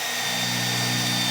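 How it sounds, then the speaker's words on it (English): A power drill with a 1/8 inch bit boring into the steel bed of a 2018 GMC pickup, giving a steady, close, continuous whine with no speech. "So I'll take an 1/8 inch drill bit and drill down into the bed."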